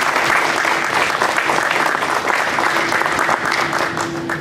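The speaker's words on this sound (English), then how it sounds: "Let's give these speakers an arousing applause" Crowd applause for speakers at a moment-of-silence gathering in Rochester, New York, a loud, dense and continuous clatter of many hands with a faint steady hum beneath, easing slightly near the end.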